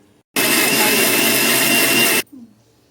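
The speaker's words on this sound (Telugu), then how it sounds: "ఒక జార్లు వేసుకుని మిక్సీ జార్ మళ్ళీ పట్టిద్దాం రెండోసారి" A mixer grinder blends tomatoes in its jar, a loud, steady motor whir close by that starts abruptly, runs about two seconds and cuts off sharply.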